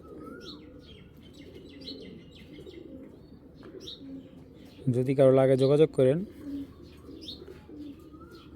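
A racing pigeon of imported Belgian and Dutch club bloodline coos in a short, loud, throaty burst partway through, while someone talks steadily over soft background chirps.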